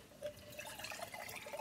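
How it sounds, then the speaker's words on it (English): Water poured back from one cup into another during a children's water-to-juice trick, a soft continuous trickle and splash, fairly quiet and close, with no voices. "Now pour it back for me, Elizabeth."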